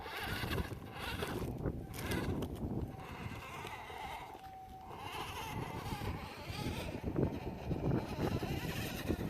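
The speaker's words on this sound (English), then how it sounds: "You can hear the tires trying to get grip over this rock here." A Danchee Trail Hunter RC crawler scrabbles its tires over grippy rock, a steady close rasp of rubber with a thin electric motor whine rising briefly in the middle.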